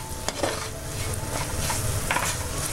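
Turmeric powder and spices frying in oil in a pan for Kerala kingfish curry, a steady close sizzle with a few stirring scrapes and clinks, no talking.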